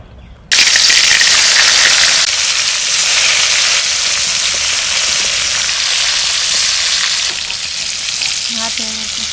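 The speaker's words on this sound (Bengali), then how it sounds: "এবার মাছ কটা ভাজবো।" Koi fish drop into hot oil with a sudden loud sizzle that stays as a dense, steady crackling hiss close by. Some faint clinks come near the end.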